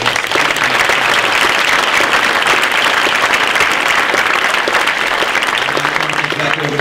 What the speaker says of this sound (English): Can we have just one more round of applause?